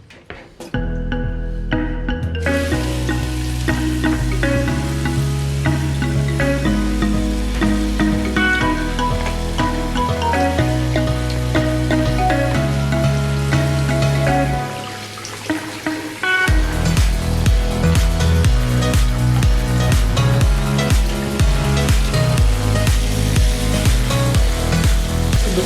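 Pieces of giant parasol mushroom frying in a pan give a steady, loud sizzle close by, broken by clattering stir strokes, with a short lull partway through before the frying noise surges back even denser.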